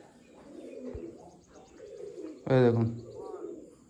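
A restless pigeon held in hand coos in low, throaty bursts, then gives one louder, sharper call near the end, close up, while someone speaks briefly.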